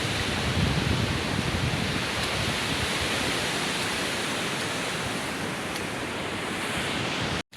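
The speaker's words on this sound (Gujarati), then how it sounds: "તો દરિયાના મોજા આવે છે." Sea waves wash steadily onto the shore at Jafrabad, a loud continuous roar of surf that fills the whole stretch with no voices, ending abruptly at the close.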